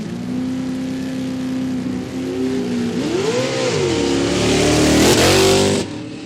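Drag race car engine running on nitrous at a quick street day, loud and near, its pitch wavering and surging as the power cuts in and out before a sudden drop.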